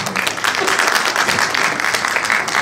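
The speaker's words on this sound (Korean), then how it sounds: "네, 박수." Dense, loud applause from the audience at a live public broadcast taping in Ilsan fills the whole stretch, steady and close with no break.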